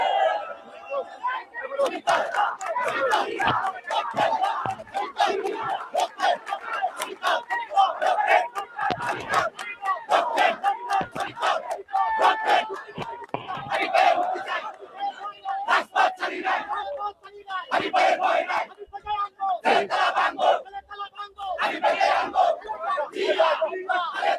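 At a BNP rally in Nayapaltan, a crowd chants slogans in loud, rhythmic bursts of many voices, with call-and-response surges and brief gaps between shouts.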